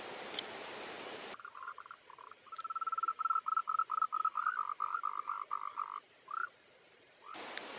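A run of rapid, evenly repeated green tree frog croaks calls out for several seconds against a quiet rainforest night background, bracketed by brief bursts of broadband noise.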